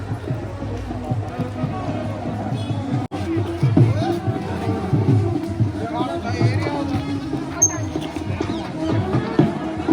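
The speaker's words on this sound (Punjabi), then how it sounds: "ਪੂਰੀ ਭੀੜ ਉਮੜੀ ਪਈ ਆ" A large crowd gathers at Satinder Sartaaj's home in his native village, and a steady hubbub of many voices and movement fills the air, with nearby talking layered over the babble throughout.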